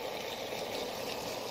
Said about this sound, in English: The first sound that's different is a kind of gurgling.